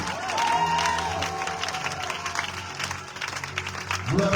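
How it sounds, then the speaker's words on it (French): A church congregation at a Sunday service cheering and applauding loudly: sustained dense clapping with crowd shouts throughout, a big hall-filling roar. "je veux que tu jubiles en acclamant fortement le Seigneur Jésus"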